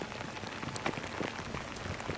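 Steady, cold rain patters on a surface along a mountain road in Colombia's Chingaza region, a soft continuous hiss with faint scattered drops and no voices.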